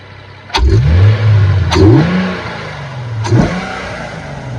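A Nissan 370Z engine revs hard three times in quick bursts, each with a rising roar and a deep, throaty exhaust note from an upgraded exhaust, close by.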